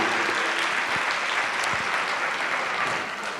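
Dense, steady applause from a large audience at a speech fills the whole stretch, loud and continuous with no voices on top.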